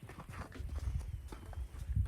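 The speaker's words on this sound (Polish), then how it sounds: "Dobry koń." Horse hooves clip-clopping close by on the ground, an uneven run of soft thuds lasting about two seconds with no voices.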